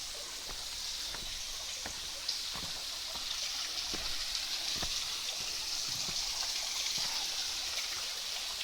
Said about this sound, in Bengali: এই হচ্ছে ধারাগিরির ঝর্ণা।